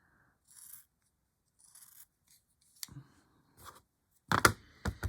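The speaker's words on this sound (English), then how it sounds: "We'll just cut that off a little bit." Scissors snip fabric for a miniature dolls house cottage, a few faint separate snips and rustles, then louder close cuts near the end, with no voices.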